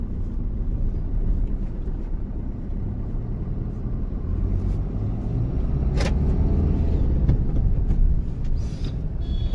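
A 2019 Maruti Suzuki Ertiga ZDi with a 1.5 L diesel engine and five-speed manual, heard from inside while driving on the road: a steady low engine and road rumble with one brief sharp click midway, no talking.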